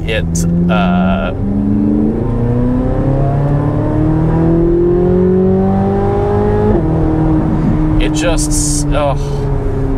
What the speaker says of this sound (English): it makes such a good sound, and the motor makes a lot of good power all the way to the red line